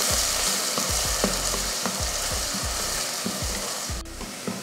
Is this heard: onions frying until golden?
yes